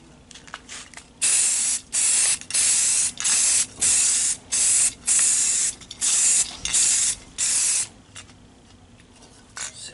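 Rust-Oleum High Performance gloss black enamel sprays onto a car side mirror from a 2004 Toyota Sequoia in about ten short, loud, evenly spaced hissing bursts from an aerosol can.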